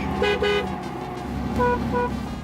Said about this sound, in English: That was a slightly underwhelming toot from James's otherwise impressive vintage Austin Healey